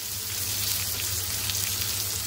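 Semolina-coated pomfret frying in a pan, a steady dense sizzle with fine crackling that holds loud and even throughout, no voices.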